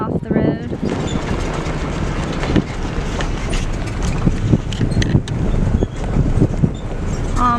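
A vehicle towing a trailer on a windy road, a loud continuous road and engine rumble with wind buffeting and rattling, with voices faintly in the background.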